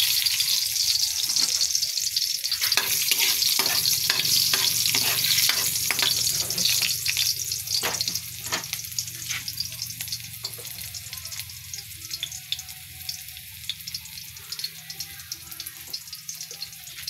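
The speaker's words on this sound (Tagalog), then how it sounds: "Ito, nilagay ko muna yung bawang. Sunod natin yung sibuyas." Garlic and onion fry in a pan for a sardine dish, a close, continuous crackling sizzle with scattered stirring clicks and pops that ease off toward the end, with no voices.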